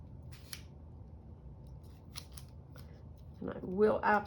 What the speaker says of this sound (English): the piece is small enough that I can cut it off